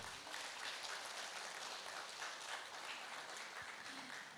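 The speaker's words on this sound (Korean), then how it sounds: "여러분의 큰 박수 부탁드립니다" Sustained audience applause fills a Gunsan Red Cross lifelong college anniversary ceremony as an award is handed out, a dense, even roar of many hands clapping throughout.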